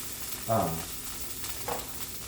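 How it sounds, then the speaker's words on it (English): Garlic browning in a touch of olive oil in a pan with sausage juices, a soft continuous sizzle with two brief louder bursts of frying or stirring. "add just a touch of olive oil to this and start to brown the garlic"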